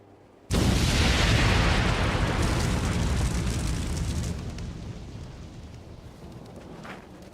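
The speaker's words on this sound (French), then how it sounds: "il provoque une explosion" A sudden explosion of pure vitriol reacting on contact with air, a loud abrupt burst followed by a long roaring rumble that slowly fades over several seconds, with no voices.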